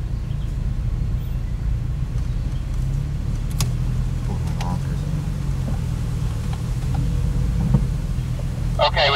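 An off-road truck engine idles and works at low revs on a trail, a steady close rumble with wind noise and faint clatter throughout.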